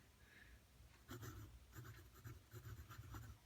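A Parker Jotter pencil scratches across paper close to the microphone. After a faint start, soft rhythmic strokes come in short repeated bursts, quiet but distinct.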